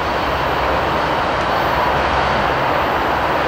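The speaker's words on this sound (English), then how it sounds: "Just as that one goes through, we've got another Aurora-bound Metra commuter train." A steady, loud rumble of an Aurora-bound Metra commuter train rolling past on the BNSF line, a broad roar with no pauses.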